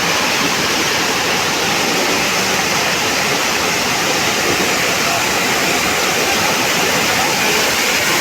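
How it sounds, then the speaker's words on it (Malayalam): Water from Bheemeshwara waterfall pours and rushes in a steady, loud broadband roar close by, continuous for the whole stretch with no voices over it. "ഭീമേശ്വര വാട്ടർഫാൾസിൻ്റെ ചുവട്ടിലെത്തിയിരിക്കുകയാണ് ഈ വരുന്ന വെള്ളം കൊണ്ട് ചെറിയൊരു പാലമുണ്ട്"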